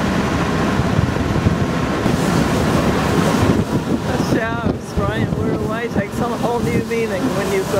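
Sea waves wash and splash steadily against a small passenger boat travelling along the coast toward Budva, mixed with strong wind rumble on the microphone and faint voices in the background.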